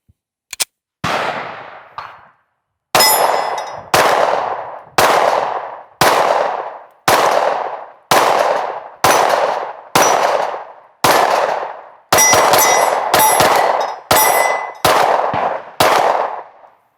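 A Sig Sauer P320 XCarry pistol fires Federal 124 grain HST rounds, about fifteen loud, sharp shots in a steady rhythm with a quick double near the end, each followed by a short ringing decay.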